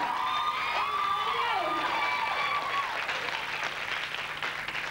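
Warm applause and cheering from a crowd at a 1996 Bold and the Beautiful fan club event, with whoops and shouted calls rising over the steady clapping.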